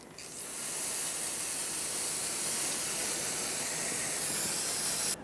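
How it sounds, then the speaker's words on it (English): Brake parts cleaner sprays onto a cleaned steering knuckle surface on a 2000-2005 Ford Excursion: one steady, fairly quiet aerosol hiss lasting about five seconds, starting and cutting off cleanly. "rinse it down with some brake parts cleaner"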